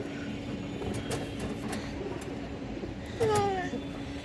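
High-flyer pigeons at a bird sale, soft cooing mixed with a steady low hum and a brief whistle-like chirp, with people talking nearby.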